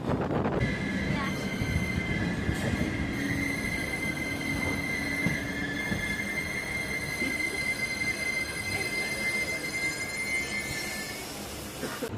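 Steady roar of the Cheran Express, an Indian express passenger train, running at speed, with rumbling wheels, a sustained high whine and faint squeals, continuous and close throughout.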